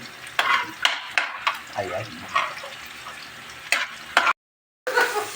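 Garlic frying in a pan for a monggo dish, with brisk spatula clatter and sizzle in short repeated bursts, a voice briefly exclaiming, and a short cut to silence near the end.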